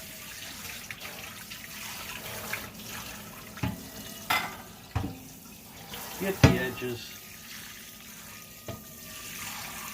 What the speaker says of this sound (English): You run some water in it.